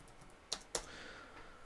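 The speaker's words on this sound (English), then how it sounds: "Let me type in Alibaba." Two quick keystrokes on a computer keyboard, close and crisp, followed by quiet room tone with no talking.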